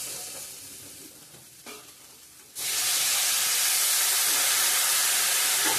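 Hot water poured onto fried spice masala in a pan bursts into a loud, steady sizzling roar after a quieter stretch, then holds at full strength to the end.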